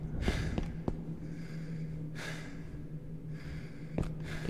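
Heavy, rasping breaths from an animatronic character in the horror game The Joy of Creation: Reborn, three gasping surges spaced about two seconds apart over a low steady hum.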